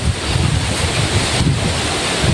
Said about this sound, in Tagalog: Yan, lakas yung hangin dito.